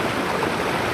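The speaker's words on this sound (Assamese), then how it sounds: "এয়াই হৈছে নদীখন আপোনালোকক দেখাই দিছোঁ" A river flowing steadily in a scenic hill landscape, a continuous broadband rush of running water, moderately loud and close, with no voices.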